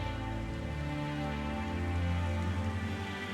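Steady rain falls in The Witcher 3 on the King's Gambit quest, a continuous dense hiss under a sustained low musical drone, with no talk.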